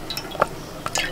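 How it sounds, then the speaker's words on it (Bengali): A spoonful of kewra water pours into a pan of chicken biryani gravy made with milk: a short, close liquid trickle with a couple of small drips and splashes, heard alone with no voices. "1 চামচ মতো দিয়ে দিচ্ছি কেওড়া জল"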